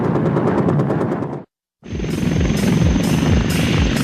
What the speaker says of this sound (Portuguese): É um helicóptero de 2 motores com um poderio imenso e incrível agilidade.